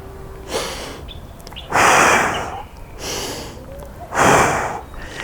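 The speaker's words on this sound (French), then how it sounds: "Expiration, inspiration. On expire." Forceful breaths during a squat workout, two louder gusty exhalations standing out among softer breaths, close and rhythmic, with no talking.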